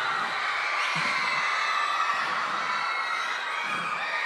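Concert crowd at a live show at the Metropolitan screaming and cheering in a continuous loud roar, with shouts and whoops rising from the mass of voices throughout.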